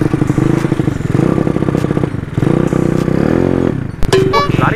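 Yamaha Mio racing-spec motorcycle engine revved hard at full throttle in repeated rising and falling surges, loud and close, with a sharp clatter and a brief whine near the end.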